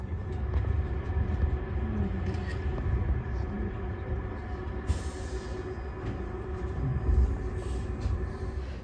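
A modern passenger train runs through the snowy southern Carpathian Mountains, a continuous low rumble of wheels and carriage noise with a brief brighter hiss partway through, steady and moderately loud throughout.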